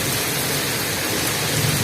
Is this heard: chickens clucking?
no